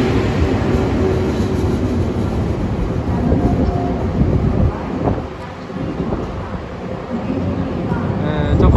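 Steady low rumble of a Korean train bound for Mokpo idling at a platform near Yongsan, with a broad mechanical drone throughout and a brief dip midway.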